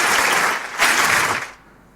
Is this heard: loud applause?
yes